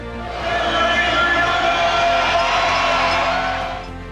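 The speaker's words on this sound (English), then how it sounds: "The likable Tomashek received polite applause from the packed house in Kemper Arena" Crowd noise from a packed house in Kemper Arena at a boxing match, a steady wash of applause and murmur that swells and holds before easing off, with no single claps standing out.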